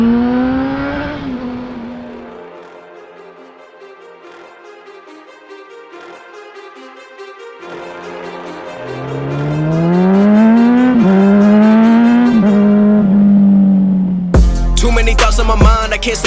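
A 2003 Honda CBR 600 RR motorcycle is ridden with its engine climbing and falling through several rising revs and gear changes, loud and close, before the sound cuts abruptly to something else near the end.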